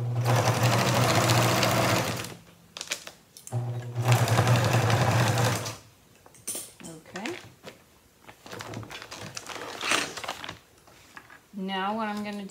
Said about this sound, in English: I'm going to just make a stitch right along the bottom first of the folded edge to sew, to secure the handle in place.